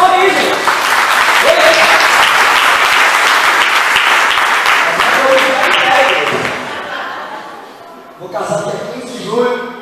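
A church congregation at a Baptist service applauds loudly and steadily for about six seconds, with cheering voices in the crowd. The clapping then dies away and a voice speaks over the tail.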